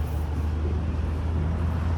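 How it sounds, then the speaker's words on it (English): A steady rumble of road traffic with people stuck in a jam, heard continuously as low, broad engine and road noise with no distinct passing vehicles. "look all these people stuck in traffic"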